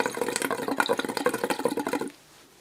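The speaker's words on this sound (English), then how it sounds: "Bubbles." Breath blown through a voice therapy tube into water makes a rapid, close run of bubbling gurgles that stops abruptly near the end, leaving near silence.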